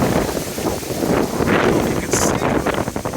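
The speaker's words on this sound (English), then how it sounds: "Never seen it ever in my life this windy here in South Florida" Strong wind gusts roar across the microphone in Boca Raton, South Florida, a loud, continuous rushing buffet with rustling throughout.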